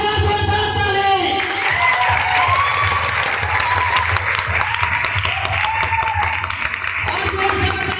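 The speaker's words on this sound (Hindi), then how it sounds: "तो एक बार जोरदार ताली।" An audience at a business seminar gives a loud, sustained round of applause, dense clapping filling the whole stretch with scattered shouts and a voice carrying over it.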